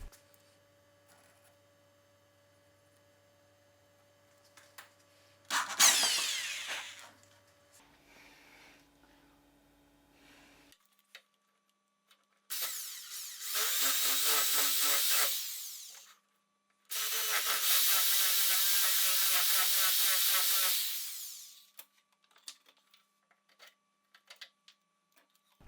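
A Forstner bit bores a countersink recess for a bolt head in wood for a staircase, heard as two sustained drilling bursts of several seconds each, close and loud, after a shorter burst and quiet gaps.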